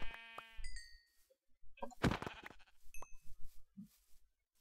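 Sheep bleating in Minecraft amid game sound effects, a couple of short wavering bleats near and clear, mixed with a ding and soft thuds of hits or footsteps.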